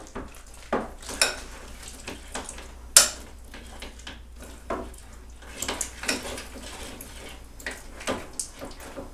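A spoon stirring peanut butter fudge mixture with a dash of vanilla in a bowl, irregular scraping and clinking knocks against the sides, fairly quiet and close with no talking.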